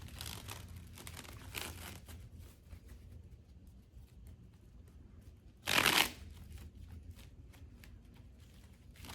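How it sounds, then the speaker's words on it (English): Soft riffling and sliding of a tarot deck being shuffled, mostly quiet, with one sharp, louder burst of cards snapping together midway. "when the cards don't want to shuffle like that"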